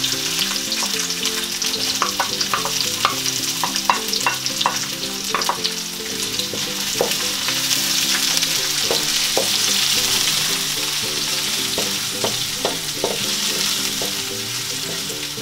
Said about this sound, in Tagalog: Halu-haluin lang po natin para medyo maluto po yung ating sibuyas at saka bawang.